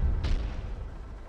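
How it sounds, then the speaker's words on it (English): Artillery fire in the video game Terminator: Dark Fate Defiance: a single sharp, booming shot cracks out amid low rumbling battle noise, its echo fading away over the following second. "It is so crazy how much artillery they have over there."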